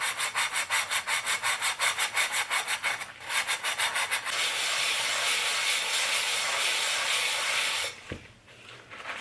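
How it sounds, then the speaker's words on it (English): Crusty, tarnished cookware is scrubbed with fast, rhythmic back-and-forth strokes. The scrubbing gives way to a steady, continuous rubbing hiss, close and fairly loud, with no talking. "I had to scrub a little bit more than I usually do"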